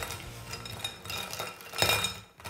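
Markers are shuffled together by hand, giving a few close plastic clacks and rattles with a sharper burst near the end and no voices.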